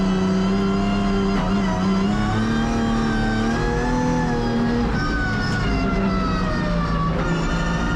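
A Nissan 180SX driving laps on a race track makes a loud, sustained engine drone with shifting pitch as it revs and accelerates, heard close and continuously for the whole stretch.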